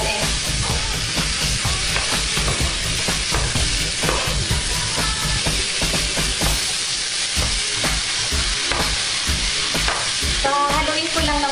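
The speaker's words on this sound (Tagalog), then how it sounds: "So, haluin ko lang ng mabuti" Fried rice made with hamonado sauce is stirred and tossed in a hot pan, a loud, continuous sizzle and hiss with repeated scraping of the utensil against the pan.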